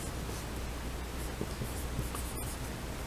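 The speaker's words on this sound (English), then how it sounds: "So I'm going to, for this first part, write ammonium." Pen writing the word ammonium on paper, a continuous soft scratching with faint stroke-by-stroke texture, close and low in level with no voice.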